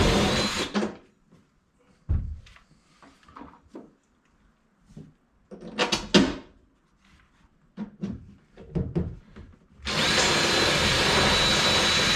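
A power drill whirs in short bursts separated by clunks and handling noises, ending in a long, loud continuous run drilling through aluminum while installing a fish finder on a boat.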